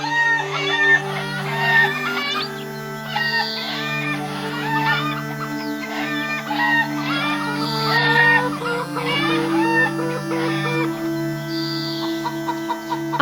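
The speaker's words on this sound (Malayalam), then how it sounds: "രാമുവിന് കുറച്ചു കോഴികളുണ്ടായിരുന്നു." Cartoon chickens belonging to a villager named Ramu cluck and crow over a steady sustained musical backing, the bird calls repeating in bursts throughout.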